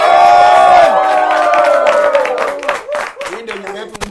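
A studio audience claps and cheers to welcome a guest onto a talk show. The applause is loud and dense at first, then thins into scattered claps as it fades.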